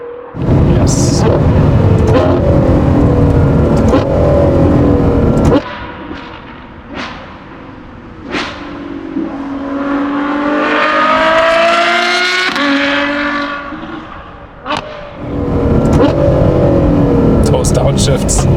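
A Novitec Ferrari F12 N-Largo R V12 roars loudly up close, revving hard, dropping off sharply with crackling pops between gear changes, then building again through a long rising acceleration before backing off and surging once more.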